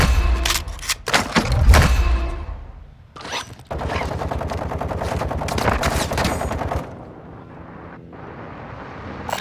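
Gunfire in Call of Duty: Modern Warfare II Warzone 2.0: a few heavy, booming shots followed by a sustained, dense stretch of rapid fire that then fades into a quieter rumbling background.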